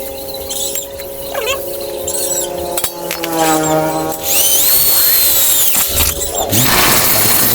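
A power drill bores holes in steel for a homemade ladder using a dull bit, whining and grinding steadily through repeated passes, with pitch sweeps and metallic clinks between bursts.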